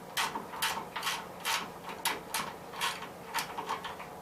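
Loosened nuts are turned off by hand on a 1973 Gravely 810 tractor, giving a steady series of quick ratcheting metallic clicks, roughly two per second, close and fairly quiet.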